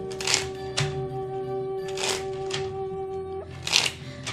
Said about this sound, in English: Just shuffling a little bit here.